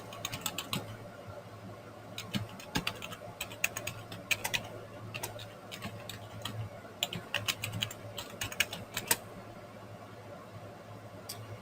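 Someone types a username and password on a computer keyboard: quick, irregular bursts of close, crisp key clicks with short pauses between them.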